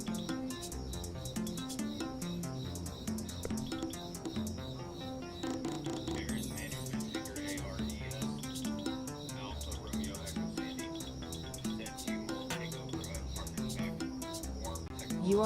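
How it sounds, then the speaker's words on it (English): Crickets chirp steadily in the background, a continuous high-pitched pulsing trill running the whole time beneath other sound. "She's incorporating the crickets in the background."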